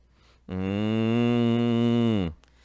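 A cow gives one long, steady moo that swells in and holds for nearly two seconds before cutting off, heard on its own against a quiet background.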